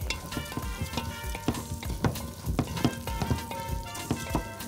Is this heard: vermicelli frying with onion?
yes